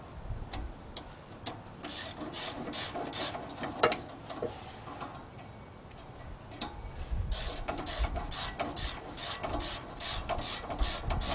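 A ratchet wrench clicks steadily while tightening a 17mm exhaust manifold bolt on a Chevy S10 pickup, with quick bursts of ratcheting, a short pause, then more rapid clicking, nearby with no talk.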